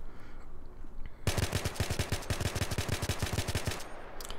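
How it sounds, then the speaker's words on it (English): An AN94 rifle in the Battlefield 3 video game tap-firing at a wall, with a long run of rapid, evenly spaced loud shots after a quiet start. A brief pause comes near the end. "I'm basically just gonna shoot at this wall with no recoil control by tap firing as fast as I can"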